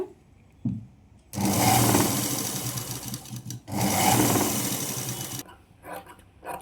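Electric sewing machine stitching cloth for basket handles, two long steady runs of rapid whirring needle chatter separated by a brief pause, close and loud, followed by quieter handling noises.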